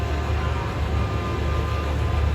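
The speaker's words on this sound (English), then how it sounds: "New trains are on the track in the station." Mindbender roller coaster trains in the station at Six Flags Over Georgia, a steady low rumble with no clear peaks, sounding close and continuous for the whole stretch without any voices.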